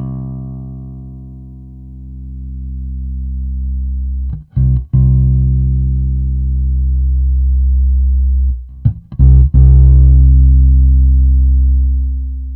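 Bass guitar through a Fender Downtown Express with its EQ in use: long, sustained low notes ring out loud and alone, with a few quick plucked re-attacks at two points.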